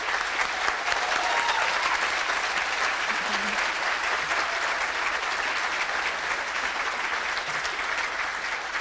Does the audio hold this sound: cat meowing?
no